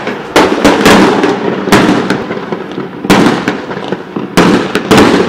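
Fireworks burst repeatedly at night in Beirut, Lebanon, each loud crackling bang followed by a rumbling tail, four or five blasts spread unevenly over a few seconds with no talking.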